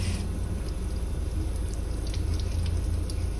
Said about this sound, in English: You can run water in there.